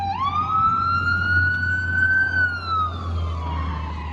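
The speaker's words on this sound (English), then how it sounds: "It's like the third ambulance that went past me." An ambulance siren passes by outdoors, a single loud rising then slowly falling wail lasting several seconds over a low steady traffic rumble.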